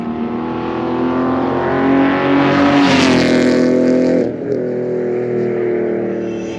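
A car lapping the Rockingham race track, its engine note climbing steadily as it accelerates, then dropping sharply at a gear change before pulling again, loud and close as if from inside the cabin.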